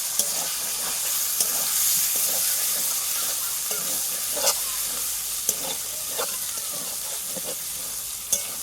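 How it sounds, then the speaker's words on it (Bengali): Potatoes are stirred into fried spice paste in a pan for a Bengali potato and egg curry: a loud, close sizzle with scraping stirring strokes and occasional sharp clinks of the utensil, and no talking. "এখন আলুগুলো দিয়ে দেবো আলু দিয়ে একটু নাড়াচাড়া করে নেব"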